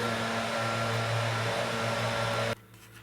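A leaf blower roars steadily in a wooded yard in St. Louis, pushing fallen leaves into piles. The broad motor drone holds constant and loud before cutting off abruptly near the end, with no voices.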